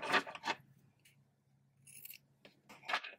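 Small scissors snip yarn ends on a crocheted ghost pencil-topper toy, giving a few quiet, close, crisp cuts spaced apart with near silence in between.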